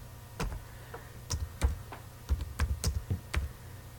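Keys clatter on a computer keyboard in irregular bursts of quiet, close clicks, with a low hum underneath and no one talking.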